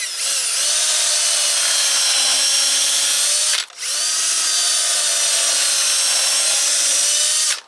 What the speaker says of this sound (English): I like to pre-drill the ends of these.